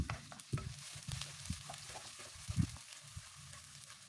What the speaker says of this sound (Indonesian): Masukkan bawang putih, bawang merah iris.